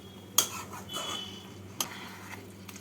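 A spoon scrapes and clinks against a pan while finely grated radish and coconut are stirred together for a Bengali radish ghonto, with two sharp knocks and softer scraping in between, fairly quiet and without talk.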